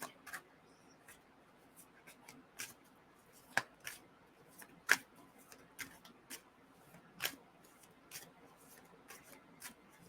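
Tarot cards shuffled and flicked by hand in a quiet room, a steady run of soft papery slaps and riffles at close range with no talk.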